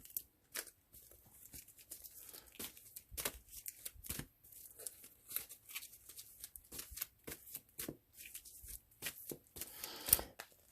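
Playing cards being shuffled over and over in irregular bursts, a plastic wrapper crinkling among the riffles. The sound is close and fairly quiet, with no voices.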